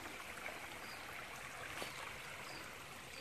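A stream flows through a green valley beside a garden, a steady, even rushing and babbling of water that stays unbroken and fairly faint throughout, with no voices.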